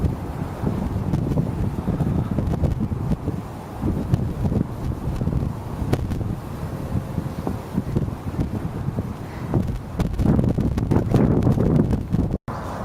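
A blustery southeaster wind buffets the microphone on a steep hillside trail in a nature reserve, a constant low rumble with gusts, loud and unbroken by speech.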